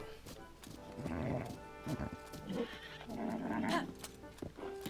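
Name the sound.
spotted horse in Zelda Tears of the Kingdom video game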